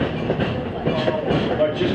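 Steady rumble of a passenger car riding behind East Strasburg Railroad steam locomotive No. 90, with faint rhythmic clickety-clack of wheels over rail joints beneath a continuous broadband roar, close and even throughout.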